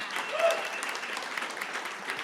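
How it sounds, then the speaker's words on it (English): Brief applause from a startup pitch competition audience welcoming a company co-founder, a soft, fairly distant patter of clapping that holds steady and fades without a clear end, with a faint voice mixed in. "So give him a big round of applause"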